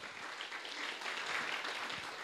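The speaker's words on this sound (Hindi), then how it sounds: "एक बार ज़रा मूड में ताली बजा दीजिए" Sustained audience applause at a live stand-up comedy show at an award ceremony, a steady dense wash of clapping from a crowd throughout, with no talking over it.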